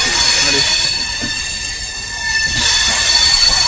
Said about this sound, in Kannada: ಟ್ರ್ಯಾಕ್ ಚೇಂಜ್ ಆಗುವಾಗ ಸೌಂಡ್ ಬರ್ತದಲ್ಲ ಆ ಥರ